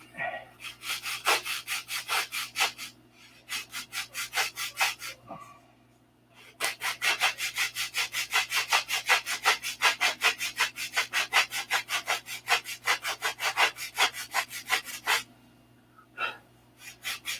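Hand-sanding a wooden piece, steady rhythmic back-and-forth rasping strokes, close and continuous, in several long runs separated by brief pauses.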